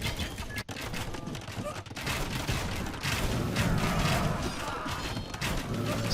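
Siege battle in a strategy video game, with bombard cannons, onagers and halberdiers clashing, producing a dense, loud barrage of booms, crashes and impacts with no letup.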